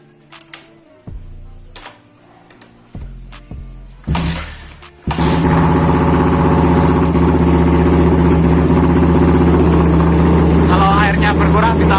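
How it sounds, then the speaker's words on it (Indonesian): A motorcycle engine cranks in a few short bursts, then catches and settles into a loud, steady running idle close by, with brief clicks from handling at the start. "Kita nyalakan mesinnya Mas Bro."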